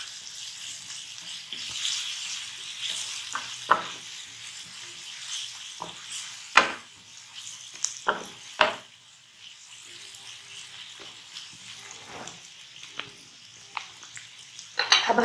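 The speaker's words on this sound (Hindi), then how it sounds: "थोड़ा सा इसको हमने सौते करना है प्याज को" Onion and garlic paste sauté in a pan with a soft, steady sizzle, punctuated by several sharp clinks and scrapes of a utensil against the pan, recorded close and fairly quiet.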